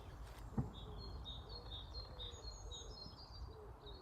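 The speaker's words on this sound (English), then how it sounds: "I don't know if you can hear those birds singing" Faint birdsong carries through a quiet outdoor setting on Lolly Moor and Badley Common in spring, a run of high, repeated chirping notes over a low steady background hum.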